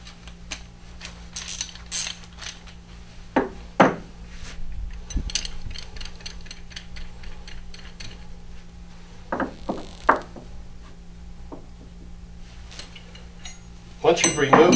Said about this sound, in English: you can take your 1-inch wrench and your 3/4 wrench or 19 millimeter wrench and remove the filter from the filter nut.